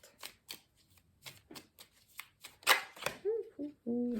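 Oracle cards being shuffled by hand in quick, papery riffles and slaps, close and fairly soft, with a few brief tonal sounds near the end.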